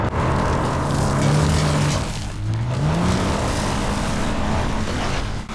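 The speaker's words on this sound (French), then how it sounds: "Faisons patiner les roues en partant de cette aire d'arrêt et voyons si on peut soulever un peu de poussière" A car pulls away from a dusty rest area with its wheels spinning, engine droning loud and close as its pitch dips then climbs into acceleration.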